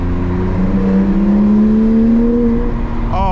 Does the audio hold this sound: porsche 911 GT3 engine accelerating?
yes